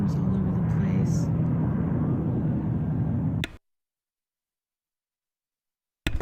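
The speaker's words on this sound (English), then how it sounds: "It's the helicopters looking for migrants" Helicopters flying overhead on a search for migrants give a steady loud rotor and engine rumble that suddenly cuts to silence partway through, then briefly returns at the end.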